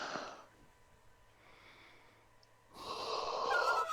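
A person gives a breathy yawn: a drawn-out exhale that fades into quiet, followed by a louder, longer breathy inhale-and-stretch sound up close.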